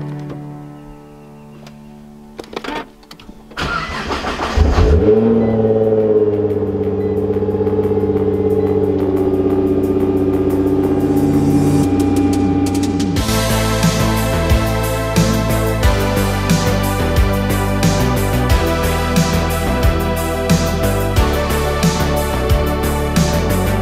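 A Nissan GT-R cranks and fires up, then settles into a loud, steady idle before a series of sharp throttle blips and revs, heard up close with no talking.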